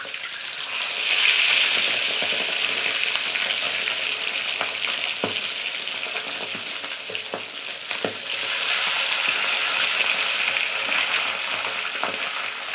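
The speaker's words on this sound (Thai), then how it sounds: "เดี๋ยวจะได้ดูแค่ทอดปลาทูใช่ไหมคะ" Mackerel fries in a pan with a loud, steady sizzle and hiss, close up, broken by a few scattered pops and clatters from the pan.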